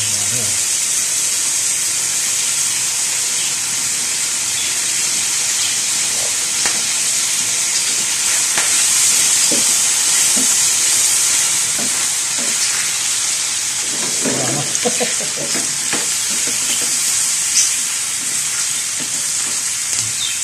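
Hotdogs and sausages frying with oyster sauce in a hot pan give a loud, steady sizzle, with occasional scraping knocks as they are stirred.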